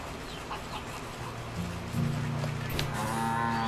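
Low, drawn-out cow moos in a video game, a couple of overlapping calls, over faint background ambience.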